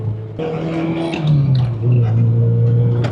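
A Toyota Corolla engine drones and rises in pitch as it revs, close up and fairly loud, with no talking.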